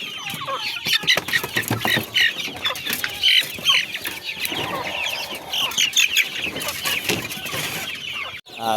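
Rhode Island Red and native chickens on a farm near Bulado Port, Guihulngan, clucking and squawking busily and close, with wing flapping and scattered calls overlapping throughout.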